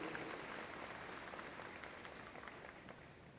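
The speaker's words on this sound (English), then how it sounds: "Let's give another round of applause for Imelda Martinez, valedictorian, and Ivy" A graduation ceremony crowd gives steady, fairly quiet applause that continues evenly for a few seconds, with no one speaking over it.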